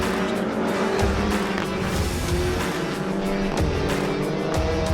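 SEAT Supercup touring race cars at the Mondello Park circuit produce a steady, loud engine roar with rising and falling revs as several cars pass close by, with brief tire squeal mixed in.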